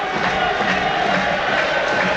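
A rugby stadium crowd at a Toulon versus Exeter European Champions Cup match roars steadily against the referee, a loud, unbroken wall of massed voices.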